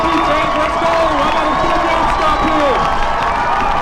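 Home crowd at a high school football game between Pine View and Ridgeline cheering loudly and continuously, a dense roar of voices with shouts rising on top, some distant announcer-like speech mixed in.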